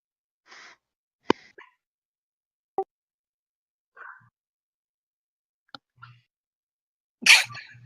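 A series of short, sharp sneezes, several bursts spaced irregularly across a quiet room, the last one loudest and longest.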